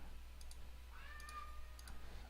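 A house cat meows once, faint and somewhat distant, a short rising-falling cry over quiet room hum with a few light clicks around it; no one speaks.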